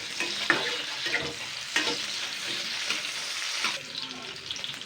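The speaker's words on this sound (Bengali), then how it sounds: "এবার তেলে কিন্তু কয়েকটা ক্যাপসিকাম দিয়ে দিচ্ছি।" Capsicum frying in hot oil, a bright close sizzle broken by several scraping stirs of a spatula, steady and fairly loud without any talk.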